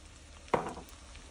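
Ingredients for green chile stew fry in a pot, giving a single brief hissing sizzle that flares and then fades against a quiet background.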